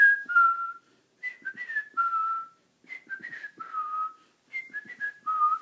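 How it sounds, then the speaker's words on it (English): A man whistles a cheerful tune to a baby in a series of clear, bright melodic phrases separated by short pauses, close and alone with no talking. "I bet I can make her smile by whistling."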